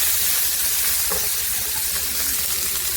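Large onion dropped into hot oil in a pan, with a steady loud sizzling hiss that runs throughout at close range, no voices over it.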